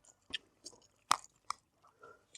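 Someone eating fresh Padma river hilsa fish on a boat, with a few soft close chewing and biting sounds spaced irregularly across quiet pauses.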